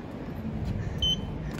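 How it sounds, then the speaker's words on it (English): A Kone Monospace lift in a serviceway car park gives a short, high electronic beep partway through, heard once over a steady low hum. "And a very peculiar beep."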